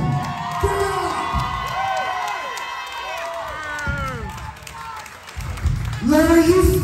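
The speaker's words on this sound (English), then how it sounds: "Give it up for these people! Give it up!" A crowd at a Southern States Pro wrestling show cheers and whoops loudly throughout, swelling at the end, while an announcer shouts over the noise.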